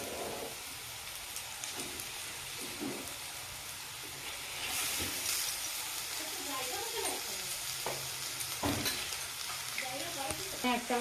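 Steady sizzling of oil in a pan with cumin powder, coriander powder and grated boiled potato, broken up by scraping stirs and a few brief clatters; constant, fairly close, with no talk.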